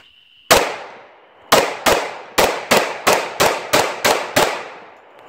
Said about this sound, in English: I'm going to pull the trigger 10 times as fast as I can, see if this gun can't keep up.